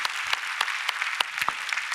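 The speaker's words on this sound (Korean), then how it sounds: "하나님께 감사와 영광의 박수를 올려드립니다." A Korean church congregation gives a brief burst of applause as thanks and glory to God in a New Year service, close and even clapping with a few sharp individual claps, no voices.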